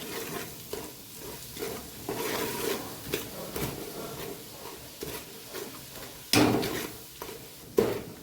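Spice masala of asafoetida and turmeric sautéed over very low gas for Gujarati garlic sev mamra: soft stirring scrapes and a faint sizzle, with two sharper clatters near the end.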